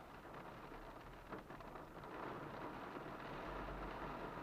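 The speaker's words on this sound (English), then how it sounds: "You can probably hear it is raining outside." Rain falls steadily outside, a faint, even hiss of drops on surfaces heard from indoors with a low rumble underneath and no talking.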